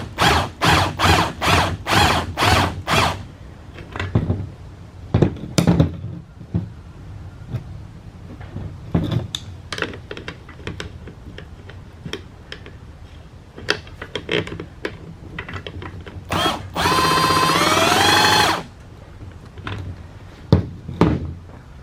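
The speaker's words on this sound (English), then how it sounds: "Get my impact gun here" Pneumatic impact gun on the strut nut of an Acura RSX front suspension: a string of loud, rapid hammering bursts at the start, scattered shorter bursts and clanks after, then one sustained high whirring run near the end.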